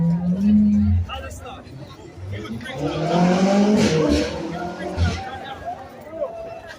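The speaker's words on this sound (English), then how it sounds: "Look at all the cars out for Palestine." Cars passing a street march for Palestine in Brooklyn, New York, with a swelling rush of traffic and tire noise in the middle, amid crowd chatter and nearby voices.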